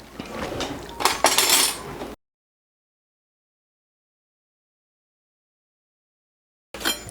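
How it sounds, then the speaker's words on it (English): A loaf of homemade bread is worked out of a metal baking pan, heard as close clinks and scraping knocks of metal for about two seconds, followed by silence and then a brief return of clatter. "I'll try and get it out of the pan."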